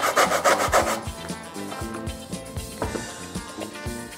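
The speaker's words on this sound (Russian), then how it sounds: "Снимаем с него шкурку." Orange peel scraped off on a grater in a kitchen, a quick series of close, rhythmic rasping strokes, brisk at first and then slightly softer, with no talk.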